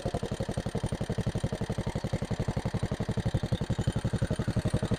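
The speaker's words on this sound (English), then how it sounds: "First, the engines will get hot very well before I can accelerate and put the pressure." A water pump engine on a pineapple farm warms up at idle, with a steady, even chugging pulse repeating rapidly and closely, with no voices.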